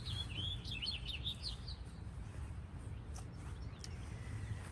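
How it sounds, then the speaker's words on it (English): Birds chirp from a black lace elderberry in a garden: a quick cluster of thin, high tweets near the start, then sparse faint calls over a steady outdoor hiss, all fairly distant and soft. "I have birds singing in the tree."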